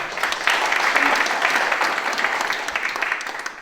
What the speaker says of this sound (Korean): 당원 동지 여러분의 힘찬 박수로 시작하겠습니다